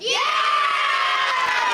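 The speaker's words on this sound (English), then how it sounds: "Can you guys give a round of applause to your coaches and coaching staff?" Crowd at a 12U boys Little League district final game cheering loudly for the coaches, a sustained roar of shouts and children's high-pitched yells, loud and close throughout.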